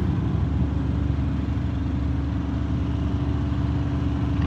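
A flatbed truck hauling steel rebar, fitted with chrome exhaust stacks, idles with a steady low rumble that stays constant and close throughout, with no voices.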